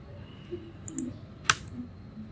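A single keypress on a computer keyboard, a short sharp click standing alone against a quiet background, preceded by a couple of softer taps.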